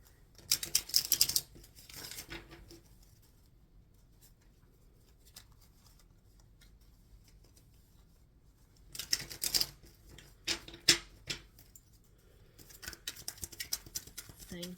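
Soft papery shuffling of cards comes in short bursts with quiet gaps between them, close by and fairly faint.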